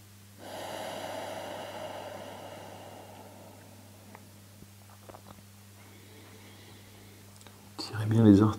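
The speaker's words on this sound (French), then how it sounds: "Respirez uniquement par le nez." Slow nasal breathing during a hip stretching session, a long soft airy inhale under a steady low hum, followed by quieter stretches of breath and a louder rustling burst at the end.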